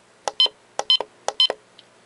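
Rubik's Cube alarm clock beeping as its buttons are pressed, three evenly spaced bursts of short electronic beeps mixed with sharp button clicks, close and clear with no talking.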